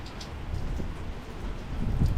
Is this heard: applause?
no